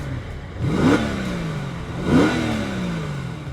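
A 2012 Mercedes SL550 accelerates past twice, each flyby swelling and then fading with a clear engine rev and a falling pitch as it goes by. The car sounds fairly close and the passes are not masked by talk.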